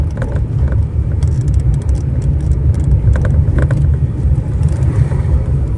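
Engine hum from a manual car rolling in third gear through bumper-to-bumper traffic without the clutch pressed, a loud, steady low rumble inside the cabin with faint ticks and clicks on top.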